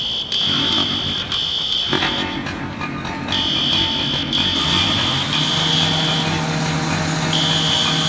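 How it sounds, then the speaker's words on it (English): Building fire alarm system going off in the video game EmergeNYC, a continuous high-pitched electronic buzzer tone that cuts in and out in pulses over a low engine-like rumble, loud and sustained. "it seems like the alarm system's going off"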